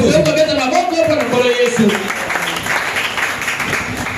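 A church congregation applauding and acclaiming the Lord during a French-language service, with steady clapping and cheering throughout, while a voice rings out over the first half.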